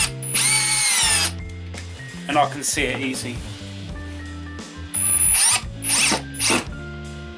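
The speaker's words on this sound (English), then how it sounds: "What I'm going to do is just drill that in with the screw" A power drill whirs in several short, loud bursts as a screw is driven in, with someone talking between the runs over soft background music.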